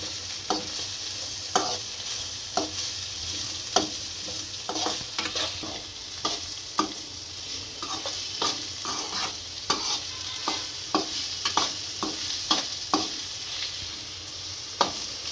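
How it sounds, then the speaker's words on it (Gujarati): Chopped onions frying in a pan after garlic, for a dhaba-style kaju masala, stirred repeatedly: an even sizzle with frequent sharp scrapes and clinks of a spoon against the pan, close up. "આ કાંદા નાખીશું કાપેલા। આને શેરવી લઈશું।"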